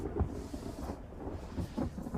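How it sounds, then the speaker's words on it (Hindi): Rain begins to fall as thunder rumbles low, with several soft, muffled rolls under a steady wash of noise and no talking. "अरे ये तो बारिश होने लगी"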